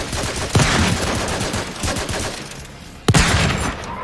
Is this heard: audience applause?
no